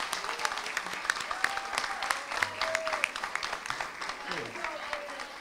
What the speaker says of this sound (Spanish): un aplauso para nuestra profesora Paloma